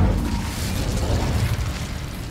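A fire spell cast in a wizarding game, heard as a brief roaring whoosh-like burst that stays loud and dense for a couple of seconds with no talking.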